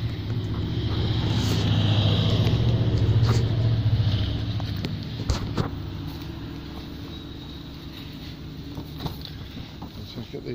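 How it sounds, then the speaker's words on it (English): A 2-litre Mazda 3 SkyActiv PE petrol engine from a sedan runs at a steady idle, a continuous low hum that swells slightly early on and then settles, with some wind and handling noise on top. "Let's get it in there, we'll start it up for you."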